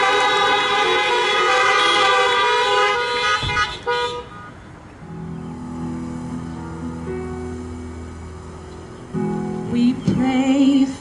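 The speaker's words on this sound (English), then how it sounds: "let's give a big honk of support for Sharon." Car horns honk in support at an outdoor parking lot prayer service, a loud chorus of overlapping toots, then a quieter lull of sustained horn tones, and a final cluster of honks.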